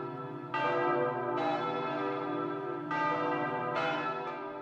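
Church bells ring in Germany, with several bright, resonant strikes at steady intervals, each ringing out before the next blow, heard alone at moderate distance.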